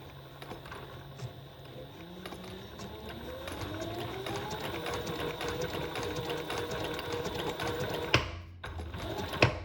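Leather sewing machine, freshly oiled, running in a steady continuous mechanical rattle with a faint regular click, close and fairly loud, ending in a pause and a couple of sharp knocks near the end.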